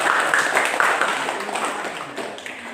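Applause for a student group after its classroom history presentation: a dense, steady patter of many hands clapping that fills the room at moderate loudness, fading slightly toward the end with no talk over it.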